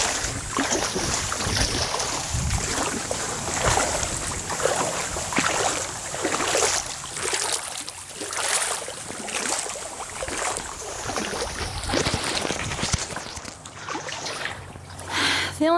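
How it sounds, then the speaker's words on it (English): Canoe dragged over a shallow mangrove bottom in the Florida Everglades, giving rough scraping and sloshing with irregular bumps, close and continuous under breezy wind noise. "we have to actually drag our canoe because it's hitting the bottom"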